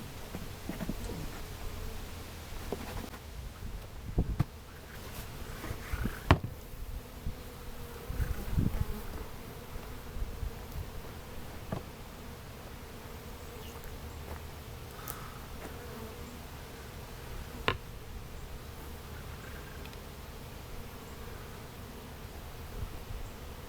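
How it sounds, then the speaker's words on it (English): Honeybees from a transferred swarm buzz continuously in front of a hive in a soft, steady drone, with scattered louder passes close by and faint bird cooing in the background; no one speaks. "Now what bees were left in the box, I'll pour on the ground in front of the hive."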